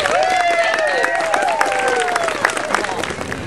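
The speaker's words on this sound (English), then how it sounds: "And a round of applause, please, for the proactive efforts of the City of Solvang and the City and County of Santa Barbara" An audience at a cycling race event in Solvang gives a burst of steady clapping and cheering, with voices carrying over the applause.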